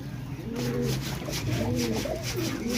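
Pigeons offered for sale coo close by in repeated soft, throaty rolling phrases, several overlapping birds over a steady background hum.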